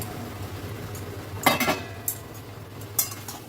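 A utensil stirs fried potatoes into a vegetable curry in a pan, giving a few scraping clinks and knocks of metal against the pan over a quiet, faint background sizzle, with no voices.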